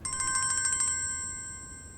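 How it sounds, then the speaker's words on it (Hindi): A phone ringtone signals an incoming call, a rapid run of bright electronic pulses followed by a sustained tone that slowly fades, with no talk over it. "लो भाई साहब की कॉल आ गई।"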